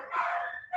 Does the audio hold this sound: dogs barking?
yes